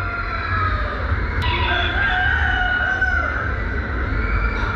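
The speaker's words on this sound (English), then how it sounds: "What's going on, Red Rooster?" A red rooster at the Melbourne show crows amid steady crowd and fairground noise, its call rising and falling over a couple of seconds, moderately near and partly buried in the background din.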